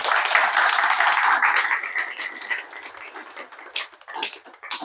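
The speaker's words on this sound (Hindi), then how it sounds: "एक बार ज़ोर से तालियाँ बजाएँ" Audience at a Hindi poetry recital claps loudly and densely at first, then the applause thins into scattered, fading claps.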